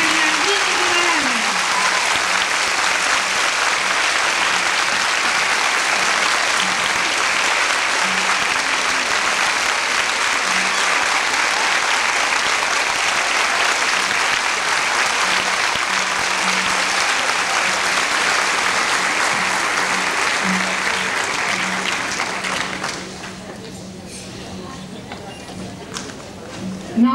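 Sustained crowd applause at a school centenary ceremony for Escuela Nro. 1 in 1992 fills the hall steadily for over twenty seconds before fading away near the end.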